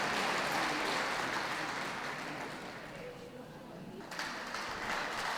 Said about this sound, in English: Can we have a round of applause for those leaving the ring